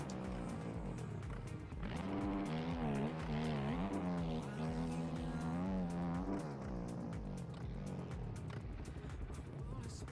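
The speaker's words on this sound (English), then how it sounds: "You can hear it, it's like the engine almost dies completely, it goes so quiet." A motocross bike engine in the MX Bikes video game revs, wavers through a sustained buzzing whine, then drops off sharply as the engine brakes and nearly dies, with a voice talking over it.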